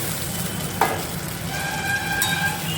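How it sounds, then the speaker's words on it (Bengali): Chopped tomatoes hit a pan of already-fried onions and sizzle steadily, with a sharp clink of a utensil early on and a continuous close frying hiss, no voices. "টমেটোটাকে একটু ভেজে নেব, তারপরে দিয়ে দেবো আমি মশলা।"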